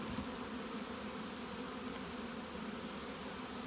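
A honeybee swarm hums steadily and densely beside a trapping box set into a hedge, the continuous buzz of many insects filling the air at close range without a break.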